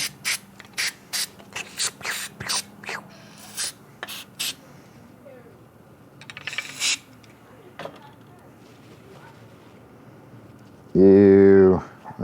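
An aerosol can of contact cleaner gives a short, sharp hiss amid scattered clicks and handling knocks, with a person talking nearby.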